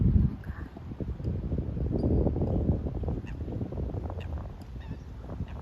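Busy outdoor bird chatter at a lake, with ducks quacking among other waterfowl, a continuous noisy din at moderate distance.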